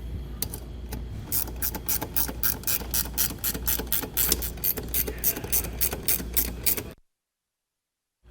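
Ratchet wrench clicking in steady rapid bursts while tightening bolts on the lower brackets of a Blue Ox KarGard protective shield for a towed vehicle, close and clear, then stopping abruptly into silence.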